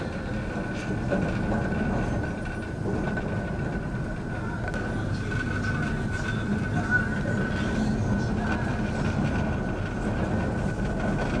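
Inside the Indian Pacific passenger train in 2007, travelling through hilly country: a steady, continuous rumble of wheels and carriage, with a faint sustained whine running over it throughout.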